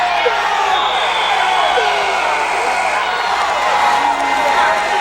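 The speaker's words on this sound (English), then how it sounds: "a lot of people calling for the stall against Reed" A crowd at a 1999 district high school wrestling final shouting for a stalling call, loud continuous clamor and shouts filling the gym while a commentator talks over it.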